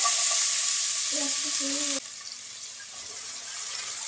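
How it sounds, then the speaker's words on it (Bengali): Chopped onions sizzling in oil in a pan, a steady, fairly loud hiss that drops to a quieter sizzle partway through, with faint stirring. "পেঁয়াজটা হালকা একটু ভেজে নেব"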